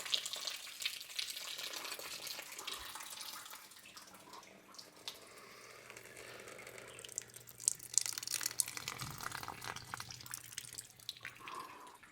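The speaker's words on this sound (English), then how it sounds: "So I'll show you what normally happens when I water my plants." Water spilling and trickling from potted plants as they are watered, a faint, continuous close-up splashing and dripping against a quiet room background, with no voices.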